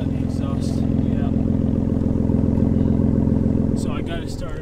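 A 2015 Ford Taurus Limited engine idles steadily after an extremely cold start, a loud, even mechanical hum with a faint clatter throughout, fading slightly at the end as a voice begins.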